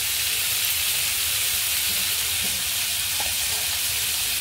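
Cashews frying in hot oil in a home kitchen, making a steady, close, loud hiss and sizzle that holds unbroken throughout, with no talking.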